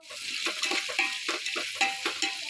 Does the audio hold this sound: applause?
no